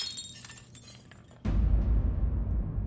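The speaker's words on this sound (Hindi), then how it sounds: "वो कांच का गिलास पड़ा था पानी का, वो हमारे हाथ से ऐसे गिर गया, वो टूट गया हो" A drinking glass for water slips from a hand, falls and shatters with one sudden loud crash partway through, followed by a sustained rumbling scatter of breaking glass, inside a TV crime-drama scene.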